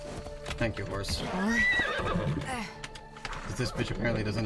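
A horse in a video game neighs and whinnies loudly, a long rising-and-falling call with clip-clop hoofbeats, over a person talking throughout.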